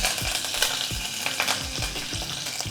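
Curry leaves dropped into hot oil for tempering crackle and sizzle steadily, with a few brisk stirring scrapes against the pan, close and loud with no talking.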